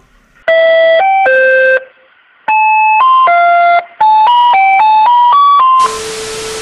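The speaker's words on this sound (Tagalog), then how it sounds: "ngayon nakakatuwang tugtugin na maririnig mo kapag may nagtitinda ng ice cream sa inyo" Tinkly electronic ice cream vendor jingle in a Filipino animated summer scene, a bright synthesized melody of bell-like notes played in three phrases with short gaps, loud and close, ending in a burst of hiss.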